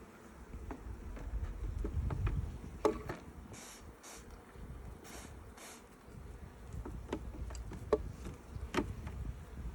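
Honey bees buzz around an open hive in spring, a steady low drone of many wings with occasional louder passes close by, with no one speaking.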